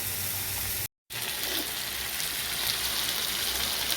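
Salt, cumin, chili and turmeric sizzle and fry in a pan while being stirred, a steady close hiss interrupted briefly by a moment of silence before resuming.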